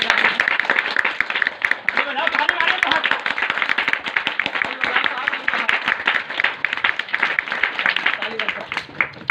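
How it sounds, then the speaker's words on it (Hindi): A street magic show audience claps together on the magician's count, producing a dense, steady patter of hand claps that runs the full length at close range, with voices mixed in underneath. "3 बोलेंगे ताली मार दीजिएगा साहब। 1 2 3 ताली।"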